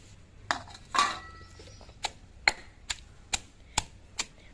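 Garlic and roasted urad dal are pounded for chutney, heard as about nine sharp, clattering strikes in an uneven rhythm, fairly close and quiet, with no talking.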